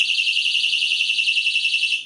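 A portable personal safety alarm blares nearby with a loud, continuous, piercing high-pitched siren that pulses rapidly and holds steady without any talking.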